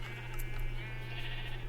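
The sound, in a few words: sheep bleating in a video game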